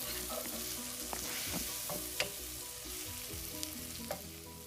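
Chopped tomato frying with masalas in a pan hisses with a constant sizzle, while a spoon scrapes and taps the pan in short, irregular strokes, nearby and fairly quiet, with no talking.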